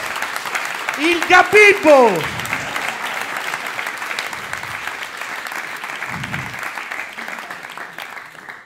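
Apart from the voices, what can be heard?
audience applause at stand-up comedy show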